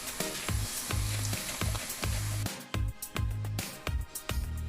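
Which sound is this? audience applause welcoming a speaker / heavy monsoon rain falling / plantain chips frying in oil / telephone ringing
plantain chips frying in oil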